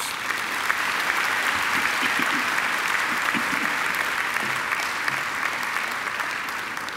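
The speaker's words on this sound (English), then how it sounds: "I think she deserves another great round of applause." Steady, sustained applause from a graduation ceremony audience honoring a singer, a dense wash of many hands clapping continuously at even loudness for the whole stretch, with no voices standing out.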